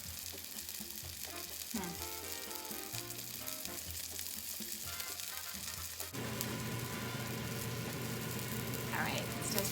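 Steady sizzling of meatballs frying in a pan, continuous and moderately loud, with background noise and a brief voice toward the end.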